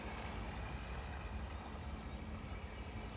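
An RC GPS bait boat runs at full speed on water, a steady, faint motor whir blended with wind and water noise throughout, with no voices.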